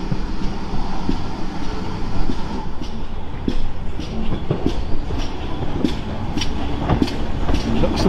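A steam locomotive on the Dean Forest Railway, a 100 Austerity tank engine, rumbles past trackside with a steady loud roar and regular clickety-clack of wheels over rail joints.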